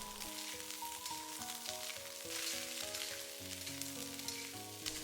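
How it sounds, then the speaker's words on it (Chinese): Cauliflower stir-fries fast in leftover egg-frying oil, giving a loud, continuous crackling sizzle with constant tossing, while a melodic music track plays underneath throughout. "用煎鸡蛋的油把花菜给它煸炒一下，一定要快速的翻炒"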